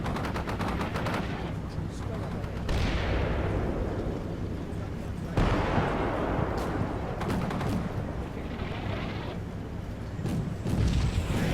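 Airstrike by a Harrier jet in the war game Combat Mission Shock Force 2: heavy gunfire and explosive bursts roll on continuously, with big booming impacts around three and five seconds, loud and close.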